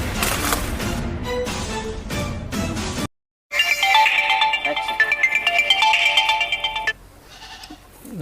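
A mobile phone ringtone plays loudly as a repeating electronic melody for several seconds after a burst of speech and a brief silence, then fades into quieter background.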